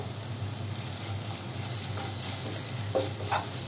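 Garlic cloves sizzle in hot oil with turmeric for a Kerala-style garlic pickle, a steady close hiss with a couple of soft scraping stirs near the end.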